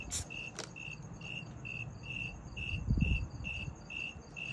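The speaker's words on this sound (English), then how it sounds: "I swear, I'm gonna kill those crickets." Crickets chirping in a steady, evenly pulsed trill, faint and continuous, with a low rumble of background noise.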